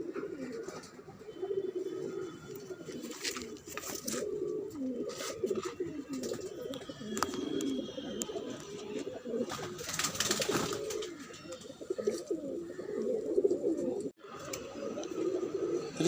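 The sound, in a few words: pigeons cooing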